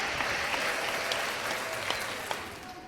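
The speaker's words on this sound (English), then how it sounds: "Let me get another round of applause." A podcast audience applauds steadily throughout, a dense wash of clapping with a few sharper claps standing out, moderately loud and without talk.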